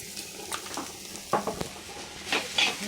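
A spoon scrapes and stirs through a garlic-coconut upma mixture sautéing in a pan, making short soft strokes over a faint sizzle.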